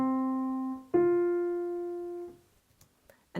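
A piano plays a melodic fourth from C up to F, as two single notes in sequence. The first rings briefly, then the second is struck and sustains, decaying to near silence with faint handling noise at the end.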